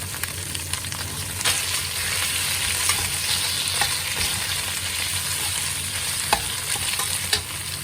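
Chicken pieces in a hot frying pan for prawn yee mee noodles, giving a steady, close sizzle with occasional scraping stirs and light clinks throughout.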